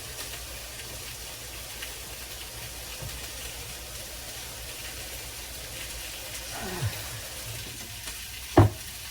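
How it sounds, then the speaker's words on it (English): Steady, soft sizzling of food frying in a skillet, a continuous crackle with a couple of brief clanks from a utensil near the end. "That's the sizzling."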